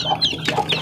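A protective mother hen clucks near her grown chicks, giving short close clucks and squawks in an uneven series with no one talking.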